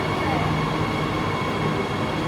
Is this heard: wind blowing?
no